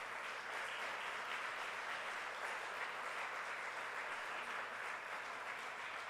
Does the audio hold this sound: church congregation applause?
yes